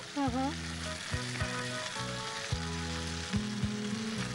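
Dal frying in a pan on a home cooking show, a steady sizzle with the scrape and knock of a spoon as it's stirred, plus tonal background music running underneath.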